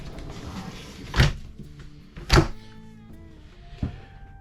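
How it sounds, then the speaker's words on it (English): Concertina door in an Evernew RT1000 caravan being opened, giving two loud sharp thuds followed by a fainter knock, with soft rattling between them and no talk. "moving through to the front of the van, we have this concertina door"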